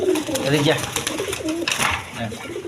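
Caged pigeons coo repeatedly at close range, with soft rolling calls overlapping one another; a voice talks over them at times.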